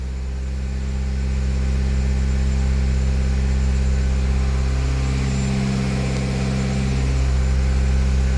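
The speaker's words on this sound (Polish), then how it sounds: "2000 obrotów sobie utrzymamy" A BMW F11 525d with the N47 diesel engine holds steady at 2000 rpm, a continuous, loud, even diesel drone with a stable low hum throughout and no speech.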